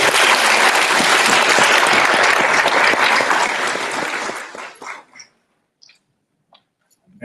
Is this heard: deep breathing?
no